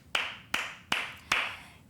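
Four sharp single hand claps, evenly spaced and close up, each with a short decaying tail, in an otherwise quiet room.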